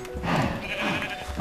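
Sheep in the Minecraft video game bleat in a couple of close, wavering calls within a second and a half, with no talking.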